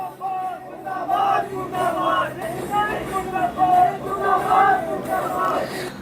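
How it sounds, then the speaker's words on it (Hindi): Protesters chant 'murdabad' slogans outdoors at a Lucknow University gate rally against India–Pakistan cricket, a loud crowd of voices rising and falling in rhythmic unison throughout. "तो मुर्दाबाद के नारे लग रहे हैं वहां पर"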